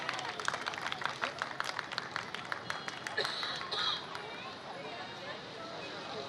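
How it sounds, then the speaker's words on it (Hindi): A crowd applauds for Khalida Ateeb at an outdoor book fair in Sehba Akhter Park, Shah Faisal Colony: brisk clapping at moderate distance that thins and fades midway, with crowd murmur and voices underneath. "बहुत सारी तालियां खालिदा बाजी के लिए होनी चाहिए।"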